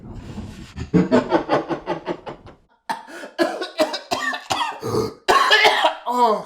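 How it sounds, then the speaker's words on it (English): A person coughs hard in a long, rhythmic fit of repeated hacking coughs, briefly pausing for breath before a second harsh burst, close and loud with no words. "I think I coughed up a lung with that one."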